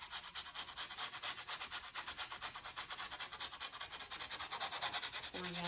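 Steady rapid back-and-forth scuffing rubs across a surface in horizontal strokes, a close, dry rasping texture repeating several times per second without a break, fairly soft overall.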